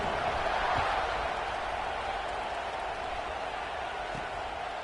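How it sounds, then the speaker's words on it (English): A video game football stadium crowd keeps up a steady, dense roar and buzz after a score, holding at an even level throughout with no talk over it. "this crowd is buzzing after that last score"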